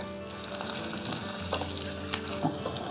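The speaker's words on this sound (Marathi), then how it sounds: "आता आपण मस्तपैकी कांदा परतून घेऊया" Onions sauté in oil on a small village-style stove, giving a steady, close sizzle broken by light scraping and stirring sounds, with no talking.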